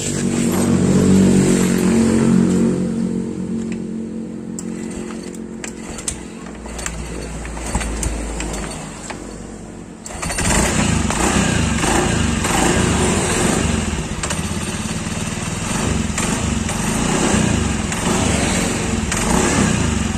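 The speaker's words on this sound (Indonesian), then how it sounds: "Sekarang kita coba hidupkan dulu motornya." A kick-started motorcycle with a stiff kick starter lever turning over, then its engine catches and runs steadily, a loud close idle with a busy rattling roar that holds for the rest of the clip.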